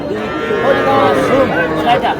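Cattle, bulls and heifer calves, moo loudly and repeatedly nearby at a busy livestock market in Pabna, with overlapping calls and crowd chatter underneath.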